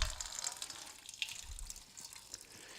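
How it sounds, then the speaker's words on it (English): Water is poured into an empty basin, making a steady splashing, trickling pour at close range with no one speaking. "to the water being poured into the empty basin."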